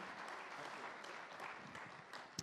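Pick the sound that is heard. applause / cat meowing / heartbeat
applause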